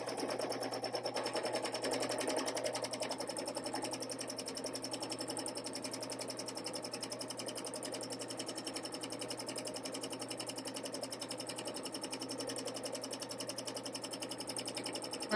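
Domestic sewing machine stitching with loose tension, a rapid steady mechanical clatter running continuously and evenly, close and moderately quiet, with no talk.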